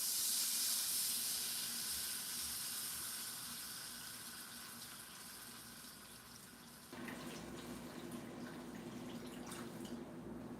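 Vegetable broth poured into a pan, a soft steady liquid hiss and trickle that eases off, then shifts to a slightly fuller splashing stream, faint and close.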